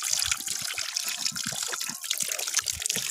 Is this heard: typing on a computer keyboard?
no